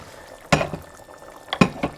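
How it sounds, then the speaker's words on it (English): Thick vegan soup is poured into a blender in a few short sloshing, plopping bursts separated by quiet pauses, close by and with no talk. "we're going to transfer this soup into my blender"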